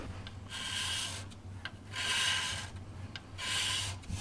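A carbide-tipped super scraper rasps rust off aluminum on a flood-damaged Ford F-150, in three close, harsh strokes about a second long, each separated by short pauses.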